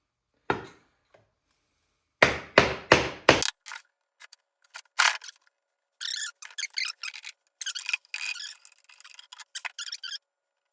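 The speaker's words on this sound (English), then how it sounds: "now I'll just tap on the corners or on the edge" A hammer taps on the edge of a Supra differential part to split it, with sharp metallic strikes: a single hit, then a quick cluster of four, a few scattered knocks, and later a rattling run of lighter clinks.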